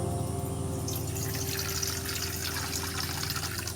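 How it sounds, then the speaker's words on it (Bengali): Water poured into a container while making homemade soan papdi, a continuous close splashing stream over a low steady background hum. "এবার একটা জায়গায় জল নিচ্ছি বন্ধুরা দেখুন"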